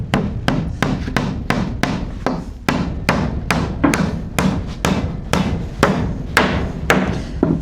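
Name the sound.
hammering while laying a house floor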